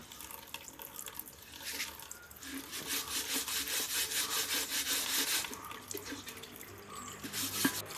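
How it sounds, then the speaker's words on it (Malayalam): Dishes scrubbed with a scrubber, wood ash and water, a close rhythmic scraping and rubbing over running water, loudest in the middle stretch, with no speech. "വെള്ളം നനച്ച് തേക്കാൻ പോവാം അപ്പോൾ നമുക്ക് തേച്ച് തുടങ്ങാം"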